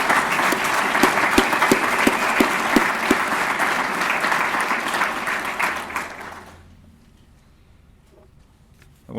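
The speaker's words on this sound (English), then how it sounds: "Let's give him a round of applause for setting an example." An audience at a community breakfast event claps loudly and steadily for about six seconds, then the applause fades quickly into near silence.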